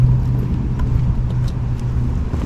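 A BMW 430i Gran Coupe with a B48 engine idles close by after warming up, giving a loud, steady low hum with a slight uneven pulse throughout.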